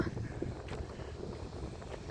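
Winter wind blowing outdoors, a faint, steady rushing buffet with no one speaking.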